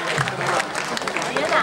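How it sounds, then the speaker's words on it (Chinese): An audience applauds a young girl who is about to sing at a live performance: a dense, steady patter of many hands clapping together, filling the whole short stretch at moderate loudness. "请给她鼓励的掌声"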